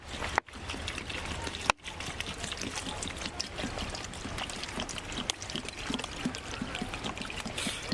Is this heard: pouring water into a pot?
yes